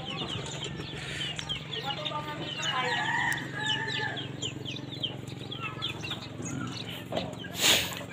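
Several chickens cluck and murmur in a busy farmyard, a rooster crows partway through, and wings flap briefly near the end.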